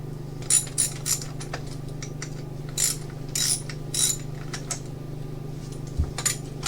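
A ratchet wrench clicks in short bursts while loosening the banjo bolt on a KLR650 motorcycle's rear brake, close and crisp over a steady low hum, with brief gaps between strokes.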